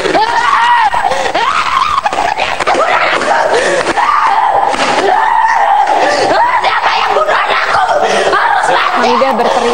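A mother screams hysterically at a murder case in Bali, her loud, strained cries running on without pause over a chaotic, shouting crowd.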